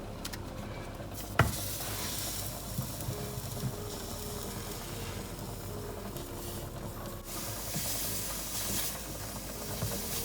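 Beef roast broast searing on a hot, dry frying pan with no oil, giving a steady close hiss and sizzle throughout with a brief sharp crackle near the start.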